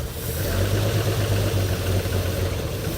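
A 1974 International Harvester Stepside pickup engine runs steadily under light throttle, a loud, low rumbling drone with an even pulse and little change in pitch.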